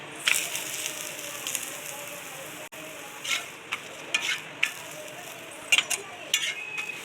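A chapati cooks on an oiled hot tawa with a soft, steady sizzle, broken by sharp scraping and tapping clicks from a utensil on the griddle, close by and fairly quiet.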